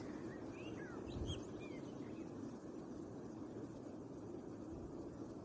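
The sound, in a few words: birds singing on branches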